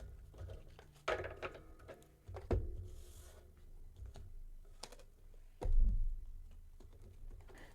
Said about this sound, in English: bear with me while I get the cards together